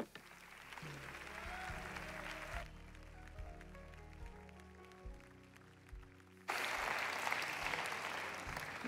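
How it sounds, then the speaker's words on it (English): A church congregation breaks into hand clapping during a worship service; a burst of applause opens, gives way to sustained organ-like musical tones, then returns louder and dense near the end. "Give the Lord a big hand clap"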